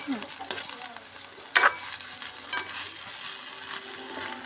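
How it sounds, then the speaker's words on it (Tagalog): Beef sautés in a pan for a beef and broccoli dish, with a soft steady sizzle under a few scattered clinks and scrapes of stirring and one sharper knock, and no talk. "Prito lang natin siya ng konti."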